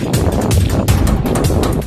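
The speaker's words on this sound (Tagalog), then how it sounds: "malakas yung hangin" Strong wind roars and buffets the microphone continuously at sea on a fishing trip, loud and rumbling, with a hint of water movement underneath.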